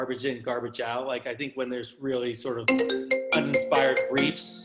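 A mobile phone ringtone chimes in bright, repeated tones during the second half, layered under continuous conversation at a marketing panel discussion on product packaging.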